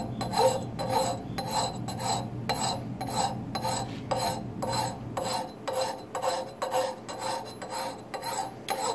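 Steady, rhythmic rasping strokes of a file drawn along the edge of a wedge axe to set a secondary bevel, about a dozen even passes close up with no talking.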